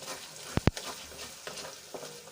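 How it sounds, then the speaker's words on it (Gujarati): Ginger, garlic and green chillies sauté in hot oil in a pan for pav bhaji, a steady close sizzle with two quick sharp stirring scrapes near the start and softer stirring after. "આપણું આદુ લસણ અને મરચાં સરસ રીતે સંતળાઈ જાય ત્યાં સુધી આપણે 1 થી 2 મિનિટ સુધી સંતળાવી લઈશું"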